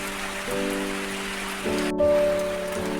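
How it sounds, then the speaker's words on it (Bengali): Continuous rain keeps falling as a steady broadband patter, overlaid by sustained droning tones that shift in pitch partway through. "সকাল থেকে অবিরাম বৃষ্টি পড়েই চলেছে"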